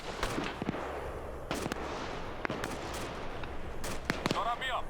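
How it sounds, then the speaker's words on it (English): Unsuppressed gunfire in the military shooter Arma 3: several sharp, distant-sounding shots cracking out at irregular intervals over a steady background rumble. "these guys are going to hear one of those gunshots because one of them is unsuppressed"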